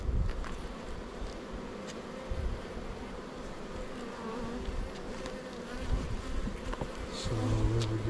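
Honey bees hum and drone steadily around an opened hive during a spring inspection, a close, continuous buzz with individual bees zipping past, with no talking over it.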